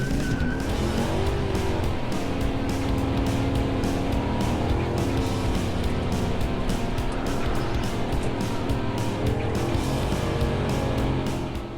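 A Ram SRT-10 V10 truck does a full-throttle burnout, its engine roaring loud and close while the tires squeal and chirp continuously for the whole stretch.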